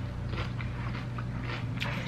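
Crunchy vegetable snack being bitten and chewed up close, several sharp crisp crunches in quick irregular succession over a low hum.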